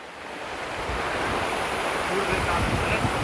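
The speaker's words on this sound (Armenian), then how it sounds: "քամի կա" Wind buffets the microphone at the shore, with waves washing in underneath as a constant, loud, roaring rush of noise.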